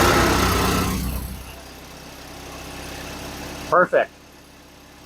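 An engine, with the choke partly pulled out and in neutral, runs loudly after valve, points and gear adjustments, then settles into a steadier idle, with a brief spoken word near the end.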